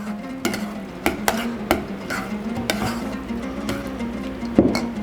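Spoon stirring butter into maisok, a traditional Kazakh dish, in a bowl or pot. Irregular scraping knocks against the vessel, close and moderately loud, with a faint steady hum underneath.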